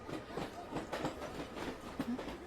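A moving local train gives a faint, steady rumble with rhythmic wheel clatter, heard from inside the carriage.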